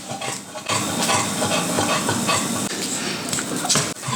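A broad, crackling sizzle of butter in a hot pan starts suddenly and continues loudly and steadily, like fat spitting close up.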